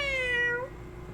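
A cat meows in Honkai Impact 3rd, one clear, drawn-out call that is loud, close and rich in harmonics, then trails off into a quiet background hum.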